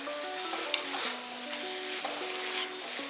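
Potato fry crackles and hisses in a pan over a high flame, with a steady close sizzle, a few light utensil taps against the metal, and no talking.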